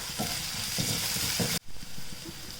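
Onions frying in a pan with ginger garlic paste for an egg masala, a moderate crackling sizzle with a few stirring scrapes that cuts off abruptly partway, then quieter sizzling continues.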